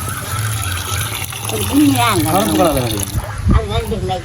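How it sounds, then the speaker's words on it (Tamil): Squid being washed by hand in a basin of water, with splashing and running-water gushes beneath nearby conversation and a sharp knock near the end. "இப்போ நாங்கள் கணவாயை கழுவோம்"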